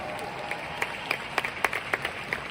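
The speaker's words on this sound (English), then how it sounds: "Can we all give ourselves a round of applause today?" A crowd claps and applauds steadily, with scattered sharper claps standing out from the dense patter.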